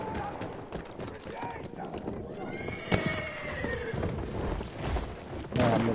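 Horse neighing and hooves galloping in the World War I shooter Battlefield 1, a drawn-out whinny rising over rapid clip-clop and gunfire, with players talking over the action.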